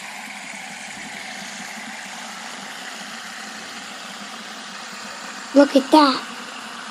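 Several fidget spinners whirl together in a steady, low, even hum that holds unchanged, with a brief burst of talk near the end.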